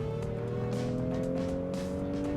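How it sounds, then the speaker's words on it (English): A Honda Pilot's naturally aspirated 24-valve V6 accelerates hard from a launch-control start in sport mode, sending a loud, steady engine drone with rising harmonic tones up through the cabin. "Launch control in sport mode, sport transmission, pedal to the metal."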